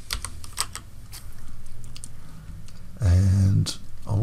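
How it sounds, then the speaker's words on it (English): Quick bursts of clicking keystrokes on a computer keyboard, close and fairly quiet, in short irregular runs, broken by a brief louder low hum partway through. "so let's type in grunge up here"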